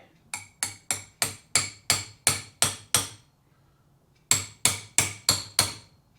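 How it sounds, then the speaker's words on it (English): Metal socket used as a drift to tap a part square into position while rebuilding a 1954 Barndoor single cab truck: two runs of sharp, evenly spaced strikes, eight then five, loud and close with a short pause between. "I've got a socket we're going to use just to tap it in position."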